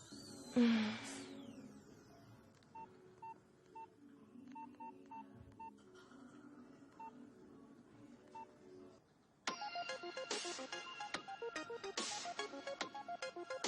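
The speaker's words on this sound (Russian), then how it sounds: "Не ответите на звонок?" A phone rings indoors: a few soft, sparse beeps over a quiet room give way to a loud, bright melodic ringtone that repeats steadily to the end.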